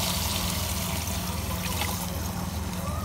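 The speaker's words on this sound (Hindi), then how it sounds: "3 ग्लास हमने पानी डाल दिया।" Water is poured into a pot of frying mutton rogan josh, giving a steady trickling, splashing pour at moderate level under a low kitchen hum.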